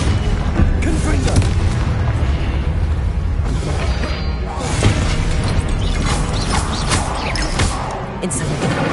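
Booming blast explosions from the Confringo spell in Hogwarts Legacy, loud and sustained amid game effects, with a voice speaking over them.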